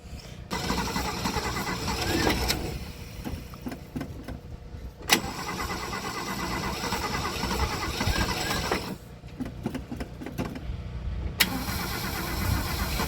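A Ford Ranchero engine cranks over and over on a weakening battery without catching, in several long grinding bursts separated by short pauses, loud and close with no speech.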